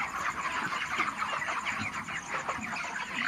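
Chickens cluck steadily on a poultry farm raising broiler birds about 32 days old, a dense chorus of many overlapping bird calls filling the space at moderate loudness with no talk.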